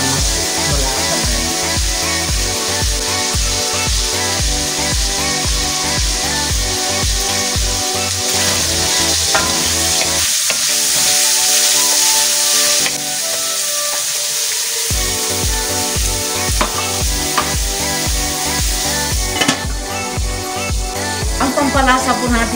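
Vegetables for pinakbet fry in a pan until golden brown, giving a continuous loud sizzle with rhythmic scraping or stirring, and the sizzle briefly quiets midway.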